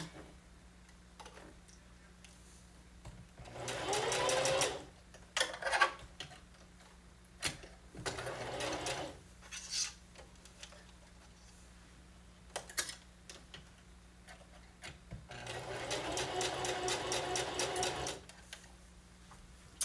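Sewing machine stitching a romper, several runs of fast rhythmic needle clatter lasting a few seconds each, separated by pauses with quiet handling noises, a steady low hum beneath.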